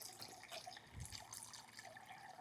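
Clean water pours into a vase for a flower arrangement, a faint, steady trickle and splash heard close up with no talking.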